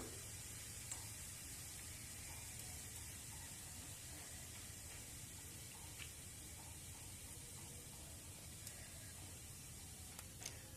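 Whole cumin seeds dropped into a small amount of hot oil left in the pan while making dahi bhindi, giving a steady, soft, continuous sizzle and hiss with no talking.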